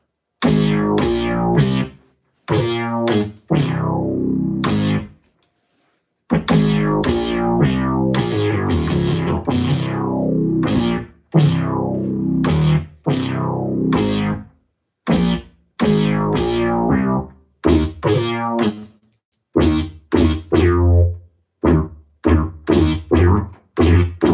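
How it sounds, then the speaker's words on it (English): Chopped synth and drum stabs from an MPC play in bursts with sharp gaps, each hit smeared by echoing delay and reverb tails. "has like a reverb to it. Like this reverb delay thingamajiggy"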